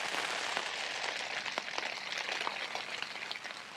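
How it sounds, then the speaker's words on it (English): Rain patters steadily on a tent at a campsite set up with used gear, a dense close hiss of drops broken by brighter individual taps, with no talking. "The rain is forecast to stop in half an hour or so, so I'm just going to chill out for a bit and listen to it."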